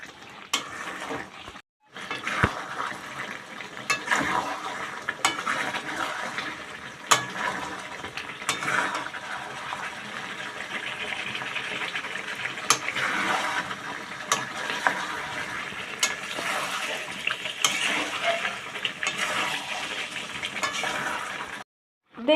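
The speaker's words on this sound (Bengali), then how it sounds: "মাংসটা থেকে তেল ছাড়তে আরম্ভ করে দিয়েছে, আর একটু কষাবো যাতে তেলটা আরো ভালো করে ছাড়ে" Goat meat stir-fries in oil in a pan as it is worked over, with a quiet continuous sizzle and occasional scrapes and clinks of a utensil against the pan. A brief pause comes early on; no one speaks.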